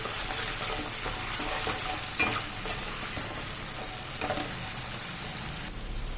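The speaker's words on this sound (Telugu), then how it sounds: "ఇప్పుడు టమాటా వేసుకుందాం, టమాటా కూడా వేయించుకుందాం బాగా" Tomatoes sizzling and frying in a pan while making a fish curry, a steady close sizzle with occasional stirring scrapes.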